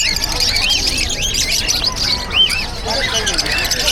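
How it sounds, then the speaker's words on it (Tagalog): Many birds squawk and chirp together at a busy pet market in Bocaue, a dense, continuous chorus of shrill calls with a louder burst midway, over crowd babble. "Ang daming ibon dito kay Boss Marvin."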